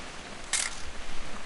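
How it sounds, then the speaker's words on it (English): A single camera shutter click from the video game What Remains of Edith Finch, one short crisp snap in the middle of a quiet background with no talking. "Just want to get a shot of you, Dawn, then we can take off"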